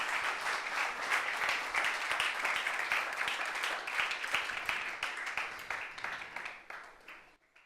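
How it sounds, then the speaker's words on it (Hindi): A church congregation claps loudly and continuously in a dense wave of applause that fades out at the end. "मैं चाहता हूं कि जोरदार तालियां यीशु मसीह के लिए बजाई जाए"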